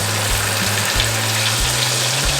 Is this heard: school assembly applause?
no